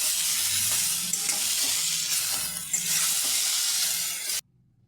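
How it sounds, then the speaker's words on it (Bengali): Kharkol leaves being stir-fried in a wok give a steady, close sizzle with stirring scrapes that runs continuously, then stops abruptly near the end. "আমি ভালো করে ভেজে নিয়েছি"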